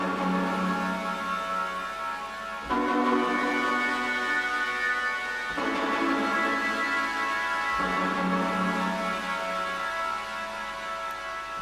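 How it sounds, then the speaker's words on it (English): An ethereal synth patch from Native Instruments' Deft Lines Kontakt instrument in Komplete 14 plays slow sustained chords that change about every three seconds, soft and alone in a house-music production setting. "I found a patch from this instance of Deft lines, which is new to Komplete 14"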